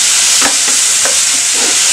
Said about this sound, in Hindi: अब हम इसमें डाल देते हैं टमाटर, इसे भी अच्छे से मिक्स कर देते हैं